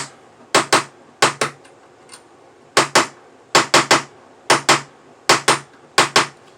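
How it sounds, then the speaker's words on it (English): Sharp brass hammer taps in quick pairs and triplets, flattening metal edges on a mandrel, ringing up close, with brief pauses between each group of blows. "you're going to want to get out your brass hammer. I actually use this little mandrel, flatten out the edges."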